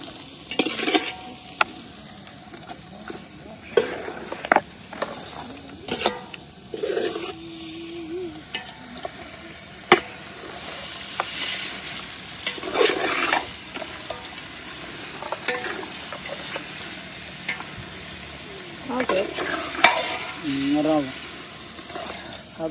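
Mutton pieces dropped into a pan of fried onion, ginger and garlic, sizzling steadily while a spoon scrapes and stirs in bursts, with voices talking intermittently over the cooking.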